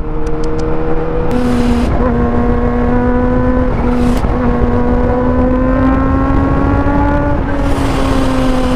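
Heavy road traffic on Balete Drive, heard from within it, gives a continuous loud engine drone with rising and falling whines as vehicles rev and accelerate nearby, plus a few sharp hissing bursts cutting through.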